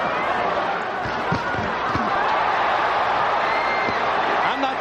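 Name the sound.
boxing crowd chanting Holyfield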